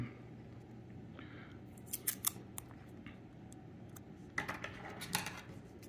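Scissors snipping a small piece of material for balancing drone and airplane propellers, with a few faint, close clicks in two brief clusters over quiet room hiss.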